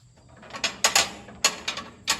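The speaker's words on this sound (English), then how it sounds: "it just kind of makes a little bit of screeching sound as that metal rod rides in that metal bracket" Metal level indicator rod on a Kubota loader scraping in its metal bracket as the bucket rolls, giving several short, bright screeching squeaks in an irregular rhythm, fairly close and not loud.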